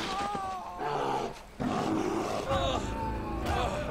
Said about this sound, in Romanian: Hai că vin ursul prin apă.